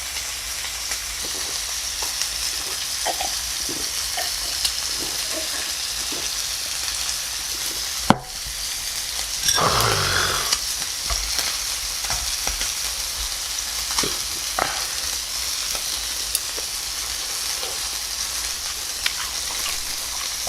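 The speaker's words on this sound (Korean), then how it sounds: "고기 굽는 소리 때문에 잘 들리실지 모르겠는데" Pork front leg sizzles on a hot pan in a home kitchen, a steady hiss broken by a sharp clack and a brief louder flare of spatter, with no voices.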